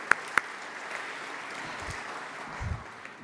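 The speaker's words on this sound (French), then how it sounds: "Je propose qu'on l'applaudisse aussi." Scattered audience clapping at an award ceremony for the Palladio grants, a couple of sharp claps up front, then a soft, diffuse patter of hands continuing in a hall.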